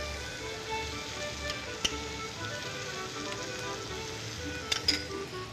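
Tomato paste and boiled chickpeas sizzle steadily in a pan, a close, continuous crackling hiss with a few sharper pops, no voices.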